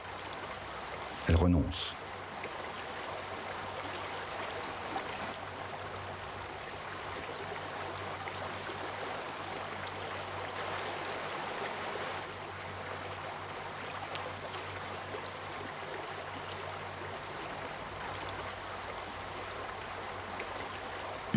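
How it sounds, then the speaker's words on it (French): A strong river current flows steadily, a continuous rushing wash at moderate level, with a brief sharp knock near the start and a quiet voice talking over it. "La vipère cherche à traverser la rivière, mais le courant est très fort."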